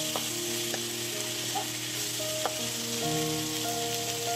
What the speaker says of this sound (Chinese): 加入辣豆瓣酱15克，将所有食材翻炒一下